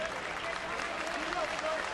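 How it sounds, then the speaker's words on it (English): Fans applaud steadily at a college basketball game between Rutgers and Florida A&M, a dense wash of clapping and crowd noise filling the arena for about two seconds. "Fans still applauding"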